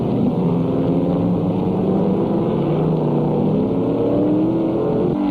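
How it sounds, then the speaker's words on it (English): Sports racing cars such as Alfa Romeo GTZs, Porsche 904s, MGs and Austin Healey Sprites at the 1965 Sebring 12 Hour endurance race, engines droning loud and continuous with rising and falling pitch as they pass, no voices. "150-mile-an-hour Alfa Romeo GTZs and Porsche 904s."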